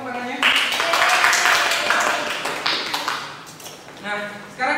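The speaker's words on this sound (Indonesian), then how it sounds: "Sekali lagi Pak tepuk tangannya" Applause from a classroom group after a biology presentation on water pollution, a burst of claps that builds quickly, holds busily for a few seconds, then thins out with a late flurry at the end.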